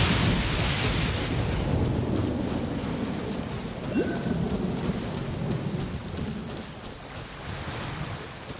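Thunder rumbles through a steady downpour of rain in the video game Genshin Impact, a loud continuous roar with a brief crack near the middle and no voices.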